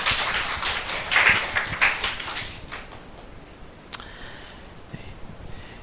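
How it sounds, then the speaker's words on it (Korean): A church youth gathering claps in thanks for a student worship team, the hand clapping loudest at first and then thinning out to scattered claps in a quiet hall. "우리 감사의 박수 하겠습니다"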